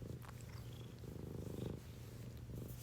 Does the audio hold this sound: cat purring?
yes